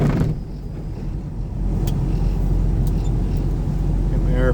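Snowplow truck engine revs up while clearing a hospital parking lot in winter, a loud steady low rumble rising in intensity, close and continuous, with a brief higher whine near the end.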